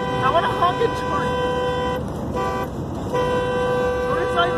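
Close car horn honking near a railway, in sustained blasts broken by two short gaps, with voices murmuring underneath.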